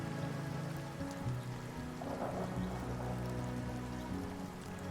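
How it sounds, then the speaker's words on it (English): Steady rain falls in Chocó, Colombia, one of the rainiest regions on the planet, a continuous dense hiss of drops that holds even for the whole stretch, with soft tonal sounds underneath and no voices. "Here, it rains almost every day."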